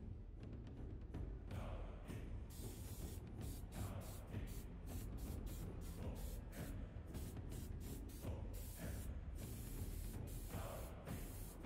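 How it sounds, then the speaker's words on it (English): Super 77 spray adhesive hisses from an aerosol can onto the backs of leather pieces in a series of short and longer bursts, steady and close throughout. "spray the backs of the leather with some Super 77 spray glue"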